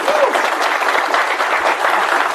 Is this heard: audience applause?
yes